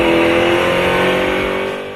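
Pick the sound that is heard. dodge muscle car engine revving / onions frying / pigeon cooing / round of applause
dodge muscle car engine revving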